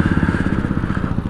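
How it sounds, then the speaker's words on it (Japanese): A Honda Super Cub 70 motorcycle's small engine chugs loudly and close, with a rapid steady pulsing rhythm throughout as the gear is dropped with a clunk. "よし、ちょっとギア落とそうか。ほらガツーン"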